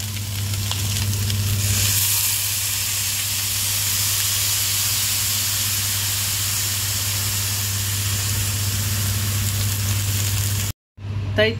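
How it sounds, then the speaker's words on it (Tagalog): Water is poured into a pot of hairy melon and fish soup, making a steady, loud rushing hiss that runs unbroken for several seconds before stopping abruptly. "And we add 3 liters of water."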